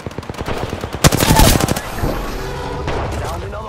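Rapid bursts of automatic gunfire in the Apex Legends battle royale game, loud and close, clattering for about a second before fading into a softer tail of distant shots and noise.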